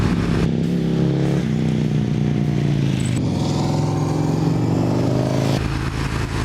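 A motorcycle engine loud and close, its note climbing through gear changes as the throttle opens and the bike pulls hard, with brief dips between rising revs.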